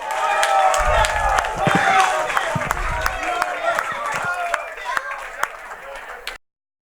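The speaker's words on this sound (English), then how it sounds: "Give them a nice round of applause." An audience at a live wrestling show claps and applauds for tournament finalists, a dense burst of clapping that thins out over several seconds, with some crowd noise mixed in.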